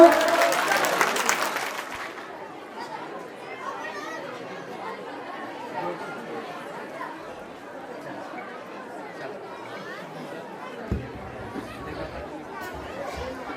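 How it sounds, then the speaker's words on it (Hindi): Loud applause greets guests at a Hindu jagrata devotional night, a burst of clapping lasting about two seconds before it gives way to a low murmur of crowd chatter. "एक बार फिर से तालियों की गड़गड़ाहट हो।"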